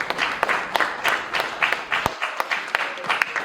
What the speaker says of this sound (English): I just want to give a round of applause for y'all coming out and competing and not quitting